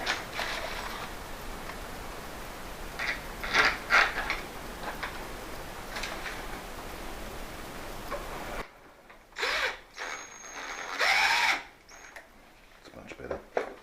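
A power drill drives a long screw into a mortice lock handle, with short whirring bursts and ticking clicks at close range, interspersed with quiet handling and a person talking.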